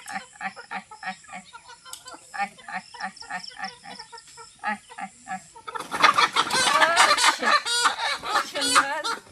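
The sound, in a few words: chickens clucking while being caught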